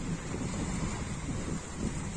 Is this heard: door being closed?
no